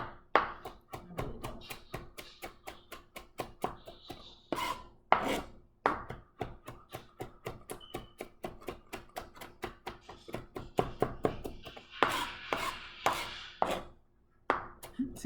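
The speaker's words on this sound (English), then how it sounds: "I like chopping with the stalks too." Herbs with their stalks are chopped on a board for salmon burgers, a long run of rapid, crisp knife strikes in a steady rhythm, near and clear, with brief pauses.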